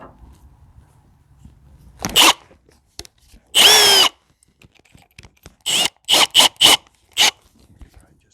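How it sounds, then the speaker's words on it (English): A power drill boring into wood held on a knee in a home basement, in several short bursts: one at about two seconds, a longer run near four, then four quick pulses close together, heard near and loud. "I just drill this right on my knee."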